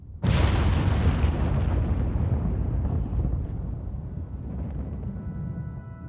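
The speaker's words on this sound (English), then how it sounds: "Close to 1 million pounds of gunpowder detonates." Gunpowder aboard a warship detonating in a single sudden, massive boom, followed by a long rumbling roar that slowly fades over several seconds.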